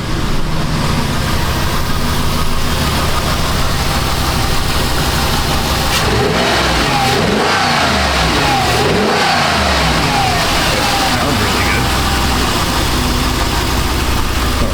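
Jeep engine idling and warming up after a fouled spark plug misfire repair, running close and steady with a few revs and a smooth even tone throughout.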